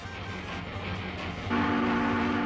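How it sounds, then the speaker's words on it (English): A real train rumbles past steadily, then its loud horn sounds a sustained, droning chord partway through and holds to the end, with no voices. "Real Trains"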